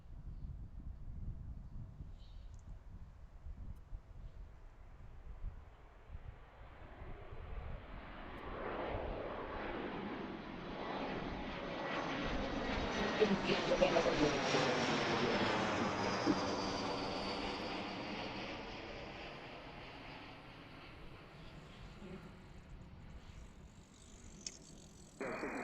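A departing airliner roars off the runway at Washington Reagan National Airport, its engine noise rising from a distant rumble to a loud, sweeping peak with falling pitch, then fading away; a faint voice comes in briefly.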